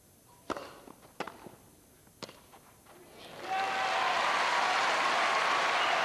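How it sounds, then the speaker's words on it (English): At a tennis match, a few sharp ball strikes and court sounds sound out sparsely before the crowd bursts into sustained loud applause and cheering for the point, continuing to the end. "Crowd reacting to a much more positive point from Henman."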